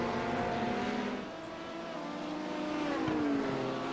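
An LMP prototype race car in a sim racing game sweeps past at Road Atlanta, its engine note rising and then trailing away over a steady drone of other cars on track.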